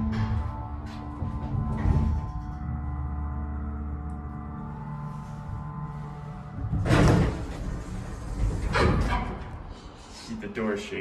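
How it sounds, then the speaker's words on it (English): A Montgomery elevator door in a Denver professional building slides and slams, with loud jolting bangs around seven and nine seconds over a steady low motor hum, with people talking. "The door shakes the whole elevator car."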